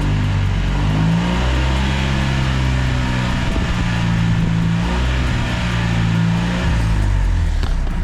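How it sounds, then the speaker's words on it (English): A car engine damaged by oil starvation revs up under acceleration, a loud, close mechanical roar with rising and falling pitch as the throttle is worked, rough and continuous with no talking over it. "if I just accelerate"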